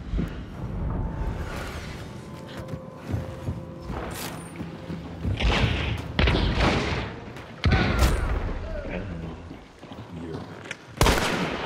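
A frag grenade explodes amid scattered gunfire in the bayou setting of the video game Hunt: Showdown, with booming bursts and sharp shots over a busy mix.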